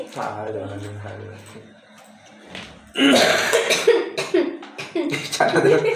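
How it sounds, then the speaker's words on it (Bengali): Several harsh coughs ring out in a recording studio, loud and close, bunched together in the second half and mixed with voices talking and laughing, after a quieter stretch of murmuring. "সবাই কাশি"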